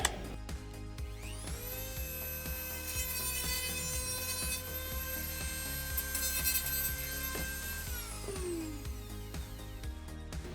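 Quick sanding of a part for a PC build, a steady whirring power-tool drone with a rising and falling whine, constant and close throughout with no talking.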